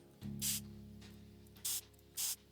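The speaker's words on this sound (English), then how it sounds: "Well, I want to spray this on everything." Fingerprint powder sprayed in a video game, three short hissing bursts: one near the start, then two more spaced about half a second apart, over a low steady hum.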